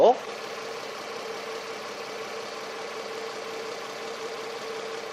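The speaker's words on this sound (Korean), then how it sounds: "바로 엔진 소리 한번 들려드릴게요" A Lexus engine idles steadily, smoothly, evenly and quietly throughout, with a brief louder burst at the very start.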